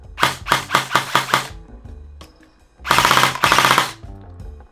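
Sportline airsoft AEG electric gun with a MOSFET, running on a 9.6 volt battery, fires two loud, close bursts: about five quick shots in a row, a short pause, then a longer sustained burst of rapid full-auto cycling.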